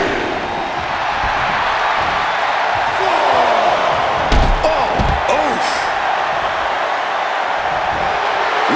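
Heavy slam thuds onto the wrestling mat in the WWE 2K25 video game after a shoulder tackle, a few impacts landing midway under steady arena crowd noise and running commentary.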